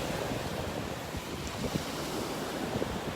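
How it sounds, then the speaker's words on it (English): Strong wind off the Gulf of Mexico buffeting a camera microphone on a North Naples, Florida beach, a continuous loud roar mixed with surf wash and no pauses. "I assume you can hear that wind blowing into the camera here coming off the Gulf."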